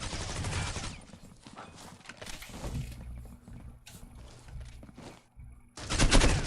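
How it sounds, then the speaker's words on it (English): Rapid bursts of gunfire crackle from a Call of Duty Mobile esports match on the Canals map, with a loud volley at the start and another at the end around quieter shooting. "Trax pre-firing Naruto, shooting him through the wall"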